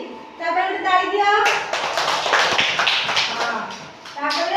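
Small children in a classroom activity clap together for a few seconds of fairly loud, busy applause, framed by an adult woman's speech before and after.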